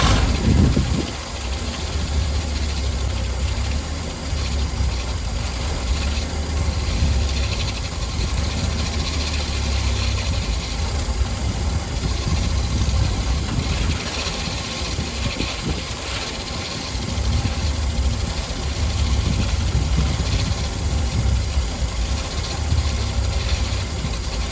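Engine idling after a Carter one-barrel carburetor rebuild, a steady loud drone with constant low rumble and broadband noise that holds throughout, close by and alone with no voices.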